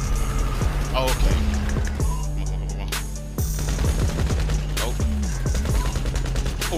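Rapid automatic gunfire crackles in repeated bursts during a firefight in GTA 5 Online, layered with sharp single shots and engine-like rumbling, loud and close throughout.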